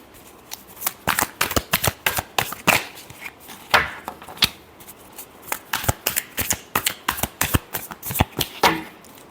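Tarot cards are shuffled by hand, close up, in quick bursts of crisp riffling slaps and flicks that come in uneven rapid clusters for about nine seconds with no voice.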